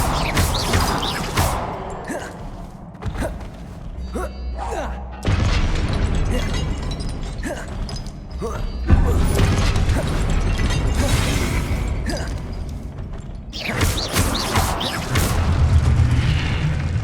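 Repeated booming spell explosions in the fantasy game Hogwarts Legacy, heavy bursts and crashes going off one after another across the stretch, loud and close with clattering debris between blasts.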